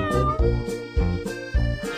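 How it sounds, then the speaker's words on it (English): A cartoon cat meowing in a children's sound-learning song, several clear, close meows repeated in a steady rhythm over a musical backing. "Kitty."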